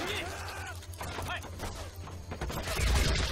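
Gunfire erupts in the World War II strategy game Men of War: Assault Squad 2, with sharp irregular shots and bursts crackling over a rumbling battle backdrop while a player talks.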